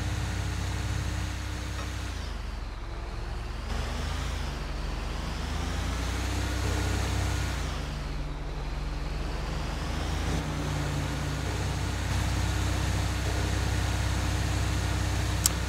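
A Peterbilt 388 heavy-duty tow truck wrecker drives along a highway in GTA 5, its low diesel engine droning steadily with gear changes shifting the pitch up and down, road noise underneath and no talk.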